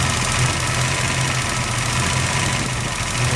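A dually pickup truck idles steadily with its air conditioning compressor running, a close, continuous engine drone and hum with a faint rhythmic knock, loud and unbroken throughout.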